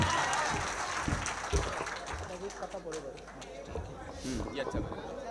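An audience at a kavi sammelan poetry recital applauds, scattered claps rising and thinning with a few sharp individual hits, fairly faint, with talk running through it.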